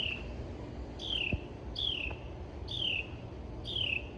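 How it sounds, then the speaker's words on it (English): A single bird sings loudly in a garden in the morning, repeating a clear descending whistled phrase about once a second, five times in a row, over faint background hum. "that bird is loud this morning"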